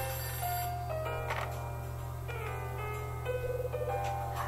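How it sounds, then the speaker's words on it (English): A telephone rings in the video game Hotel Dusk with quick trilling bursts over game music and a constant low hum. "Phone's ringing."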